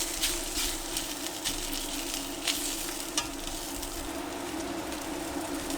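Sausages sizzle steadily in a hot pan on an induction cooktop, a constant crackling hiss with occasional louder pops, heard up close with no talking.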